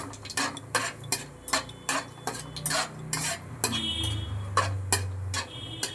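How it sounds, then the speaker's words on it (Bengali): Nigella seeds and dried red chili being stirred in hot oil, a utensil clinking and scraping against the pan in quick irregular taps over a low sizzle. "এবার একটুখানি শুকনো লঙ্কা আর কালো জিরেটাকে একটু নাড়াচাড়া করে নেব আমি।"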